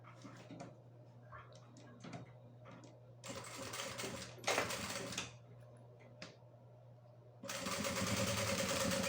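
Sewing machine running short stitching bursts on fabric for a crossbody bag, quick mechanical whirring runs separated by pauses, with a longer steady run at the end and a low hum throughout.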